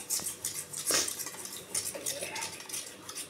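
A spoon stirs a milk mixture in a bowl for cauliflower malai curry, making quiet irregular clinks and scrapes against the sides, close and fairly soft.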